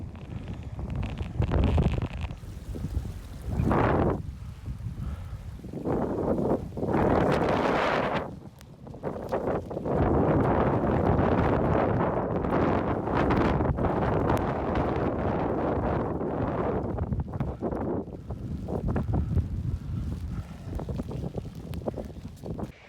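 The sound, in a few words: wind on a mountain in Snowdonia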